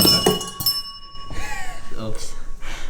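A bell is knocked over during a children's game, giving a bright metallic clink and ring at the start that hangs briefly before voices take over.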